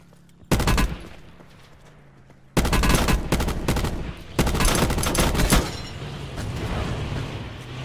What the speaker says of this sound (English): I hear shots behind me